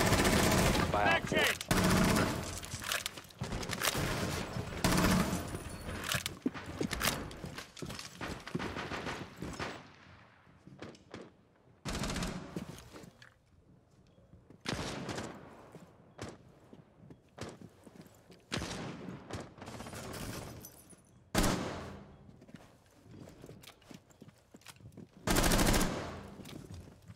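Rapid automatic gunfire and single shots from an online tactical shooter crackle in sharp bursts, some close and loud, others distant, with footsteps and brief talk in between.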